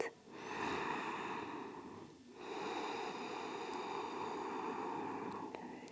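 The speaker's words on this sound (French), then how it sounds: "Gardez bien Ujjayi et la respiration sonore." Slow, deep Ujjayi yoga breathing during an Ashtanga standing sequence: long, audible oceanic breaths with a throaty hiss, one extended breath, a brief pause, then another sustained breath, close and steady.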